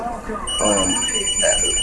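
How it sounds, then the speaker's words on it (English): A telephone rings with steady high electronic tones beneath continuous talk, the ringing coming in partway through and holding on to the end. "I answer the phone, hold up."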